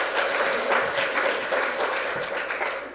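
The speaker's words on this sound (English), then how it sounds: "Give yourself a round of applause." A museum lecture audience of docents claps for about three seconds, a steady, moderately loud patter of many hands.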